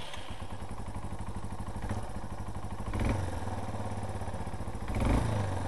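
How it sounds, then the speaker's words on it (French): A Yamaha TW 125 motorcycle with a 125 cc engine over twenty years old runs after starting, a loud, steady single-cylinder chug close by with a couple of brief revs. "C'est un moteur qui pète bien. Ici on a le starter."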